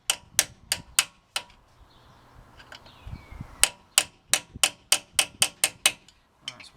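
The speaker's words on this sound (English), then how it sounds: "all what's left to do is just stake the nut using an old screwdriver or a hammer." Sharp metallic hammer blows staking the rear wheel bearing nut on a BMW 318i E46 with an old screwdriver, a close, loud series of ringing taps, a few spaced strikes, a pause, then a quicker run of hits.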